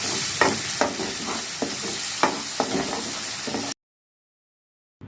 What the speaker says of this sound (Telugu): పసుపు వేసుకొని ఇదంతా బాగా వేగనివ్వాలి కొంచెంసేపు.